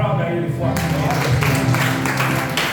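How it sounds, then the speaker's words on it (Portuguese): A church congregation applauding together, a steady dense wash of hand claps filling the whole stretch with music beneath. "Aplauda Ele fortemente."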